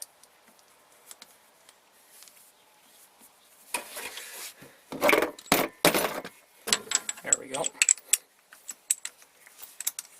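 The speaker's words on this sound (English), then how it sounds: "You probably can't see what I'm doing, but I'm actually loosening the spark plug off." A spark plug is worked loose on an inboard/outboard boat engine during a tune-up: quiet at first, then a burst of sharp metallic clicks, ratcheting and knocks close by, tapering into scattered ticks.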